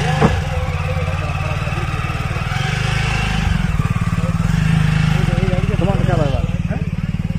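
Motorcycles are loaded onto a boat at a river crossing, with engines idling and revving loudly up close while people talk nearby throughout.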